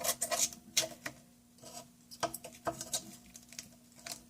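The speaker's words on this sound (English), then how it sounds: "the knife break through the back of the paper" Light crackling and rasping scrapes of a knife slicing through the paper backing of a Panasonic CF-30 laptop touchscreen, in short irregular bursts with brief pauses between strokes, close and fairly quiet.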